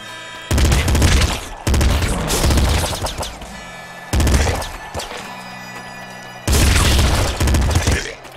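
Loud, rapid gunfire from a gun in the top-down shooter Nuclear Throne, coming in four dense sustained bursts separated by brief gaps, with explosive booms and crashes mixed into the barrage.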